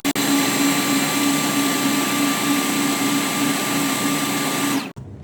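A blender runs at full speed on Caesar sauce ingredients, including pan-fried additions, a loud, steady, close whine lasting about five seconds before switching off abruptly.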